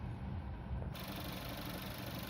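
A Volkswagen 1.4 Eco TSI petrol engine rated at 148 brake horsepower, idling steadily with the bonnet open, giving a close, even low rumble with a light mechanical ticking.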